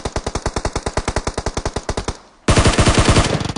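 Rapid automatic gunfire in PUBG on the Erangel map during a tournament match: a steady burst of about twenty evenly spaced shots, loud and close, then a short pause and a denser, continuous stretch of heavy firing.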